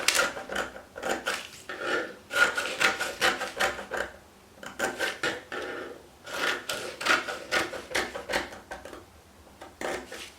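Scissors cutting fabric for a wrap blouse pattern, giving repeated rasping snips in quick rhythmic bursts with short pauses between runs of cuts, close and clear without talk.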